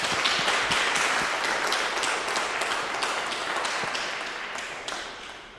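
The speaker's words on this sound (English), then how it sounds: "please would you give a round of applause as we welcome Dr. Huxley to speak to us tonight" An audience at an evening talk on climate and conflict claps to welcome a speaker: dense, sustained applause from many hands that tapers off gradually near the end.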